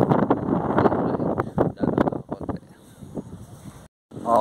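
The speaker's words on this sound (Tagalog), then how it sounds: "Ay, napakalakas ng hangin." Strong wind buffets an outdoor microphone beside Forest Lake during a barefoot run, with loud gusty roaring that rises and falls, then eases to a softer rush before a brief dropout.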